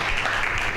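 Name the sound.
applause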